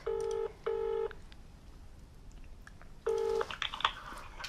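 Telephone keypad beeps as a number is dialed, two short clear tones in quick succession, a pause, then a third tone followed by faint handling clicks and rustle.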